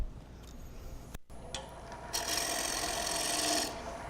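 Woodturning gouge with an Ellsworth grind cutting wood on a spinning lathe, a steady close hiss and rasp that swells louder midway, cuts out briefly and then fades, with no talking.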